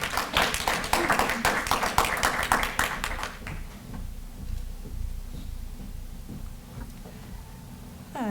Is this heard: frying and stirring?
no